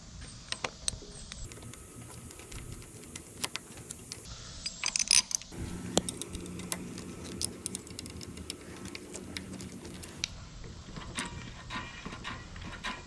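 Small mechanical clicks and light ticking come from a Coleman CC100X minibike as its throttle linkage is turned by hand during a repair, close and quiet against faint background hum.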